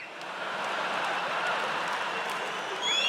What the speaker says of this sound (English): Ladies, you shouldn't be applauding that.